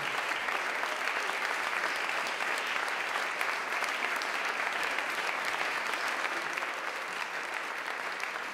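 Audience at a poetry jazz slam applauding continuously, an even wash of many clapping hands heard from within the room, holding steady without pause.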